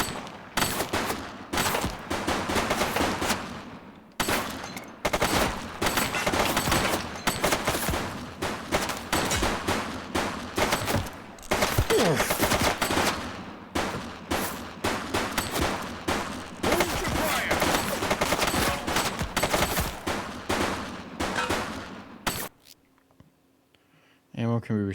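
Loud, rapid bursts of gunfire fill a shootout in the police game The Precinct, with dense volleys and short pauses between them before the shooting abruptly stops, and voices shouting underneath.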